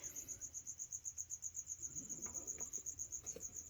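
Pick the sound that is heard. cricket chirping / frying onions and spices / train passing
cricket chirping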